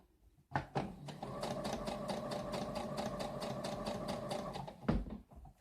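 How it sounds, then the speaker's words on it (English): An industrial sewing machine runs in a steady, rapid stitching rhythm for several seconds sewing piping on a house dress, starting and stopping with a couple of clunks, close by. "I am under the other machine doing the piping stitch."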